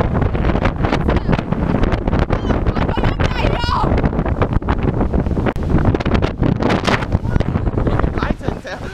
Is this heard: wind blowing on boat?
yes